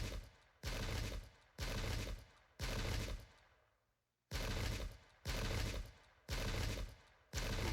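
Musket volleys in the Pike and Shot game: loud crackling bursts of massed fire, about seven in a steady rhythm, each lasting under a second with short gaps and one longer pause midway.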